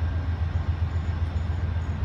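Amtrak Coast Starlight train rolling past at a San Jose station, a steady low rumble of rail cars passing close by with no break in the sound.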